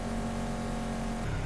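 Loud car engine while driving on a highway, a steady close drone with a constant low hum filling the cabin, no pauses.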